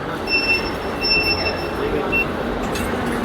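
A Bangalore Metro Yellow Line train sits at a platform, its wheels giving off high thin squealing tones over a low rolling rumble, close and fairly loud, with a voice talking faintly in the background.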